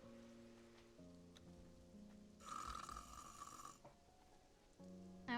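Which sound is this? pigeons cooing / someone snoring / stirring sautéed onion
someone snoring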